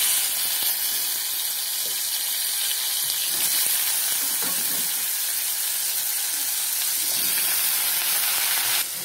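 Chunks of bottle gourd and potato hit a hot wok over tempered radhuni seeds and fry with a loud, steady, close sizzle and hiss that continues without a break, with no voices.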